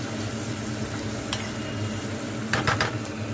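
Onions frying in a pan with salt and turmeric added, a steady close sizzle with a brief burst of stirring scrapes near the end, no one speaking.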